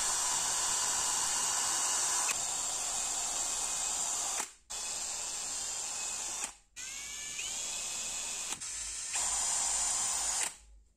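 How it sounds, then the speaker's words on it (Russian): A power drill with a 3 mm bit whines steadily at high pitch, stopping briefly twice before starting again, running close and continuous. "А Сейчас буду сверлить сверлом троечкой."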